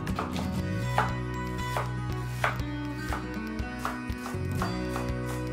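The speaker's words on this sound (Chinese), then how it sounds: "1斤2两的芹菜先切丁，再切碎" A knife chops celery on a board, dicing then mincing it for a dumpling filling: a steady run of sharp, close knocks over background music.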